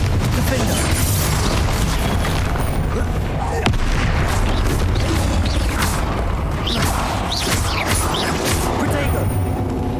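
Heavy booming blasts and crashes from the Confringo explosive spell in Hogwarts Legacy, loud and continuous amid combat clatter, with a voice talking over the explosions.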